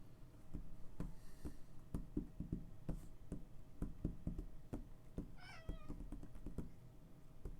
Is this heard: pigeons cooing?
no